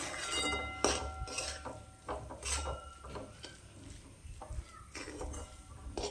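Methi bhaji being stirred with dry gram flour in a pan, a spoon scraping and clinking against the metal in irregular strokes, fairly close, with no talk over it.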